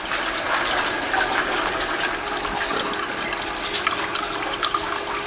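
Small waterfall splashing into a fish pond inside an Earthship-style greenhouse, a steady broadband rush of falling water that stays close and constant throughout, with no voices.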